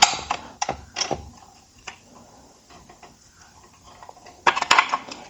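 Metal bolts being inserted and fastened on a Hyper GoGo Cruiser 12 kids electric bike, with sharp clicks, taps and clinks in irregular bursts, busiest at the start and near the end, no talking.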